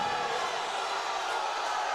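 A strongman competition crowd at Australia's Strongest Middleweight Final roars in a steady, dense wash of cheering, loud and continuous without a break.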